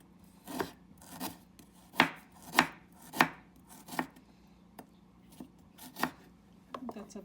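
A knife chops quickly on a cutting board while ginger is minced for pork congee. The blows are close, crisp and uneven, some louder than others, with short pauses between bursts and no talking.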